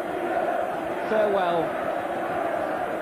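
Football crowd at Newcastle United v Brighton and Hove Albion in 1984 cheering Kevin Keegan's farewell: a steady, distant roar of the stadium under continuous commentary.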